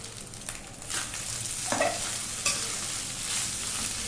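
Cooked brown rice and egg being mixed in a hot pan, with close spoon scrapes and soft shuffling over a gentle sizzle, a few louder strokes standing out.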